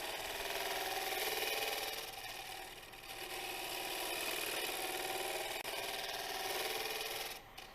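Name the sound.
lathe gouge cutting a koa wood bowl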